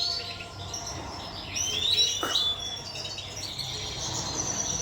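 Large breeding birds chirping and trilling steadily at close range, bright repeated calls layered over one another with no talk.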